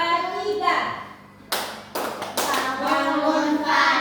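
Children clapping along as a class starts the Indonesian clap song, bursts of loud close hand claps breaking in between stretches of singing voices.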